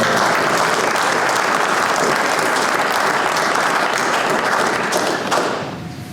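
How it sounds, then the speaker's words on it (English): Loud, sustained audience applause fills a Drill Sergeant of the Year military ceremony, dense and steady for about five seconds before tapering off at the end. "how about a round of applause for our..."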